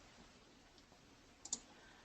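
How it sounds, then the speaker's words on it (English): A computer mouse click during card design work on a computer, a faint, sharp double click near the end against a very quiet background. "Left click"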